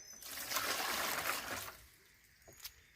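Running water rinses out a garden fountain basin, a soft steady splashing trickle for under two seconds that cuts off, followed by a few faint drips and knocks in a quiet outdoor setting.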